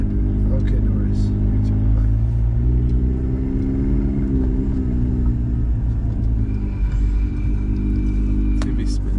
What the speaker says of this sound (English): We're in the 335, she's running, and hopefully pulls good.